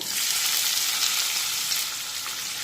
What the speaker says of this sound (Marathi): कांद्याला सतत परतत राहायचं, म्हणजे मग तो सगळीकडून व्यवस्थित